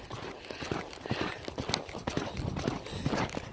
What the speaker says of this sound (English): We're gonna try to cant slowly canter around the arena.